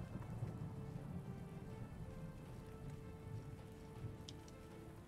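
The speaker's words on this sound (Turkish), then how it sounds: "Biz varana kadar muhtemelen yağmur geçer." Steady rainfall in the Warlord Britannia video game, a dense, even hiss of drops drumming on surfaces, quiet and continuous with a faint low rumble beneath.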